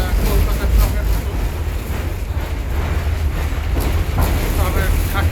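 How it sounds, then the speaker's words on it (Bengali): A tram rattles and rumbles loudly through Bucharest at night, a heavy, continuous clatter with a deep low roar and wind-like rushing that never lets up. "প্রচণ্ড শব্দ, অনেকটা কলকাতার ট্রামের মতো।"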